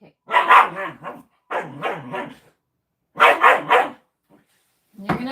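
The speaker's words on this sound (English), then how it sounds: "Stop barking." A dog barks in three bursts of rapid, loud, close barks separated by short pauses, with a fourth bark starting at the end, each burst sounding sharp and insistent indoors.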